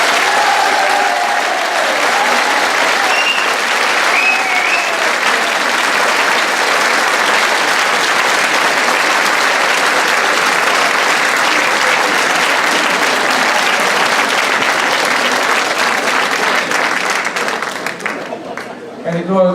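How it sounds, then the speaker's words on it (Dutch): A large audience at an evening concert finale claps for the presenter in long, loud, sustained applause that fills the room, tapering off near the end. "nou gaan wij allemaal nog één keer klappen voor ons presentatrice"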